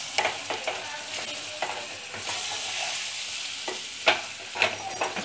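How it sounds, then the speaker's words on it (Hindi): Gram flour (besan) roasting over a medium flame in a pan, a soft continuous sizzle broken by repeated scraping strokes of a spoon stirring, some louder than others, with no talking. "एकदम मीडियम फ्लेम पे भुनना है, तेज नहीं"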